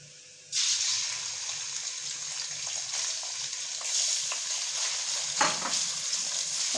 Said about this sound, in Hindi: तो कढ़ाई में सबसे पहले हम लोगों ने ऑयल डाल दी है 4 खाने के चमचे। अब मैं इसके अंदर चिकन ऐड करूँगी।